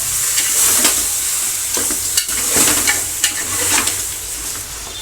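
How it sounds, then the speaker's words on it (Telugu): Washed goat head meat tumbles into a pressure cooker for goat head curry, making a steady wet sizzling hiss with irregular scraping and clattering knocks, fairly close and with no voices. "ఇప్పుడు ఇది కుక్కర్లో వేసుకోవాలి వేసి ఇలా"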